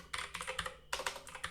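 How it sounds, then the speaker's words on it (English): Rapid clatter of keys on a new computer keyboard, with several quick bursts of typing close up and no voice. "I'm still getting used to my new keyboard here."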